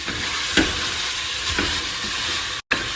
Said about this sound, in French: c'est normal que les épices collent un peu. Donc faut gratter, faut pas hésiter à aller chercher les sucres